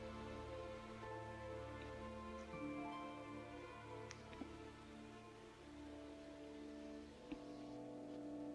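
Rain falls steadily in the medieval video game Kingdom Come: Deliverance, a soft continuous patter beneath sustained tonal ambience, with a few faint sharp ticks.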